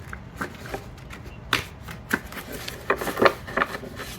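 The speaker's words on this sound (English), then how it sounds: "I'm going to shuffle one more time" Tarot cards riffle and slap together in close, irregular bursts of shuffling, crisp and fairly quiet, with no voices over them.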